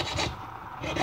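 Acrylic sheet being hand-sawn to make an amulet frame, with two close rasping strokes of the saw blade at a steady back-and-forth rhythm and no talk.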